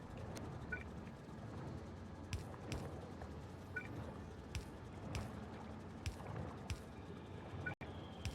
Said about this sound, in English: you can hear they're making lubricant. You can tell because they're sloshing